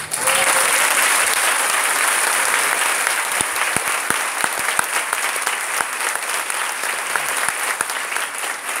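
Church congregation in a Brazilian service applauding for Jesus, a steady, loud wash of many hands clapping that fills the whole stretch without pause.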